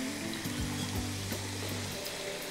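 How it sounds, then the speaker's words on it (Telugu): Potato fingers frying in oil give off a soft, continuous bubbling sizzle, a moderately loud wash of hiss that runs steadily throughout, with a low hum underneath and no speech. "కొంచెం ఎర్రగా వేయించుకోవాలి"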